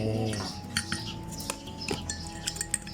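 A spoon clinks repeatedly against a cup while stirring sugar into a Hokkaido milk drink made with condensed milk, with bright metallic taps scattered through the stir and no talking.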